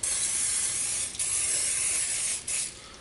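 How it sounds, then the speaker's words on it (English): Canola oil spray hisses from a can in a kitchen, three close, steady bursts with brief breaks between them and no talking. "I'm using a canola oil spray, no fat involved."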